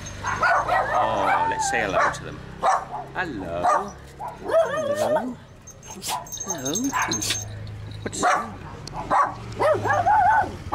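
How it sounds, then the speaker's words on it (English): Several Pomeranians bark and yap excitedly close by in Bali, overlapping each other while a person talks cheerfully among them. "Sorry about the barking."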